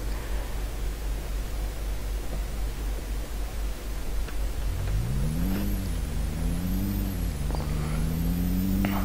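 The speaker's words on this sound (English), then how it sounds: "I can move the truck from here as well." Freightliner Coronado truck engine in Euro Truck Simulator 2, a steady low drone that rises and falls as the rig pulls away, its pitch climbing through several gear shifts over a constant noise bed, with no talk.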